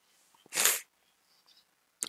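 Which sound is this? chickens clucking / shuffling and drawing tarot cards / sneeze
sneeze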